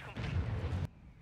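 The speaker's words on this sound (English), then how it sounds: "Oh, it's about to explode." A single heavy, booming explosion in the Warzone video game erupts suddenly, roars for under a second with a deep rumble, then cuts off abruptly into quiet.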